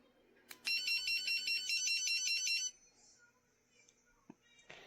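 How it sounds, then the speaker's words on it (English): A bright electronic ringtone from an ABBIDOT dog training collar trills in a rapid repeating pattern for about two seconds, then stops, leaving quiet room noise and a faint click. "that one sounds like a cell phone"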